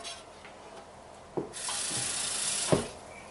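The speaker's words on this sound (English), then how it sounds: "I'm going to add some water to the drippings here." Water poured from a tap into a pan of meat drippings, a steady running rush starting about midway after a few soft knocks, with a brief clunk near the end.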